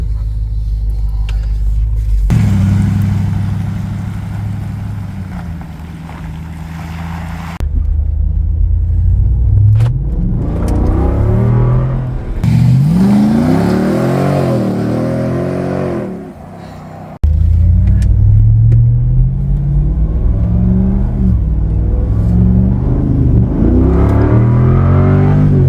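A Jeep Gladiator pickup's engine roars up through its gears, the pitch climbing and dropping with each shift, loud and close, with a brief lull midway.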